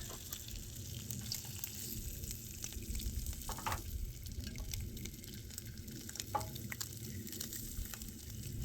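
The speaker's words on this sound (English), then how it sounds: "I don't know if you can hear that sizzle. It sounds really good." Steady sizzling of turkey pepperoni frying in a pan, a continuous crackle with occasional louder pops, close up and without talk.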